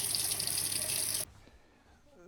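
Running water from a tap as a paint brush is rinsed with soap, a steady loud gush that cuts off abruptly partway, leaving quiet room tone afterward.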